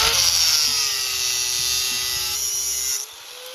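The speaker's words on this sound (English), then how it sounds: "That's why we have angle grinders." Angle grinder cutting through steel on a yard-built Christmas tree frame, a high whining grind that holds steady for about three seconds before cutting off.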